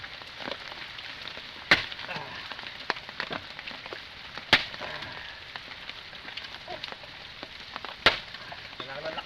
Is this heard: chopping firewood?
yes